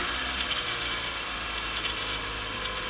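A 2005 Toyota RAV4 engine runs at a steady idle, raised up on jack stands, giving a constant mid-level hum with broad hiss and no clear start crank, and no talk.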